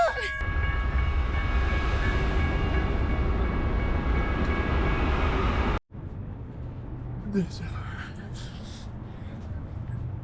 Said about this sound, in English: We just got caught by the train.